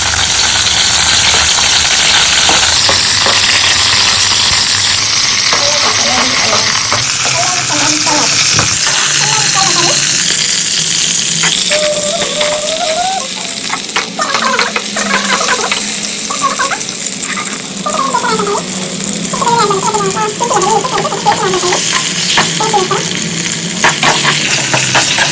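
Thick-cut onions and green chillies fry in a pan for paneer Hyderabadi, giving a loud, dense sizzle that carries on steadily. A faint chirping tone sits in the background through the middle, and scattered stirring clicks come close up.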